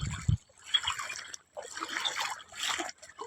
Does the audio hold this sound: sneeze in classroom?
no